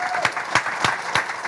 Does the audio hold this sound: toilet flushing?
no